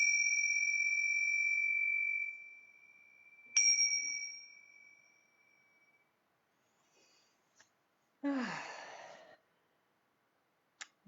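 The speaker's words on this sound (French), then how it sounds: "la cloche à sonner." A meditation bell is struck during a morning meditation session, ringing alone in a quiet room with a clear sustained tone that slowly fades over several seconds, then a soft second strike, with faint small rustles afterward.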